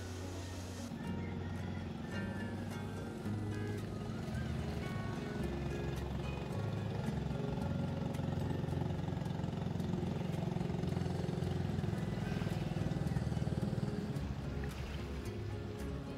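A motorboat engine drones steadily for the whole stretch as the boat arrives, a low continuous hum that swells slightly toward the end, with no talking.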